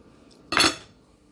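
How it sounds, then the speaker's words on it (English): A utensil cuts through air-fried deep dish pizza topped with cheese and sausage, making a single short scrape and clink against the pan, close and brief, amid near silence. "I'm trying to cut out just a little piece"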